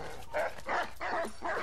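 A dog barks four times in steady succession, each bark full and close, over a low background hum, in the video game Assassin's Creed III.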